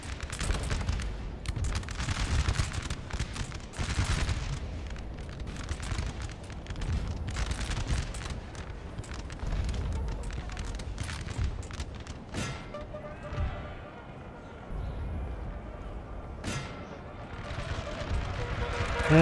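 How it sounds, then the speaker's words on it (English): 12-pounder cannons firing in the video game Napoleon Total War, with dull booms and crackling volleys in a continuous, moderately loud battle din. "There go their 12 pounders."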